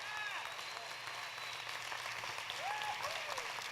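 A church congregation claps continuously in a sustained, even wash of applause, with scattered cheering voices rising over it toward the end.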